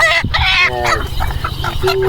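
Loud clucking and squawking from several hens and chicks for sale close by, overlapping in busy bursts, with a noisy crowd of buyers murmuring underneath.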